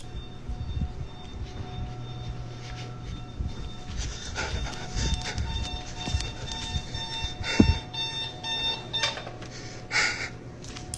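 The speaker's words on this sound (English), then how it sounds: "Das war ein Wecker." An alarm clock goes off at night in an empty restaurant, with a thin steady ringing tone that runs throughout under scattered clatter, breathing-like noise and background rumble.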